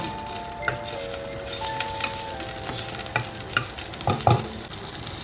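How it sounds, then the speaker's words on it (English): Butter sizzles in hot olive oil in a pan, a steady crackling fry with sporadic spatters and utensil clicks, growing busier toward the end, with no talk. "I've added some olive oil, and into this I'm adding my butter"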